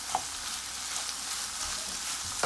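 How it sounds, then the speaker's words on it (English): Red onion sautéing in mushroom and garlic butter gives a steady, soft sizzle with a few faint stirring knocks near the start and end, close and continuous. "As soon as the onions are sauteed a little, this is gonna be perfect."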